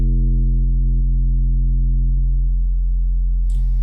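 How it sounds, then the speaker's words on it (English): Deep sub bass sine tone run through tube distortion, holding steady with added harmonics layered above the fundamental, then a burst of bright noisy crackle near the end. "if you add tube distortion to it, or even the mech, you can see all the harmonics start to pick up"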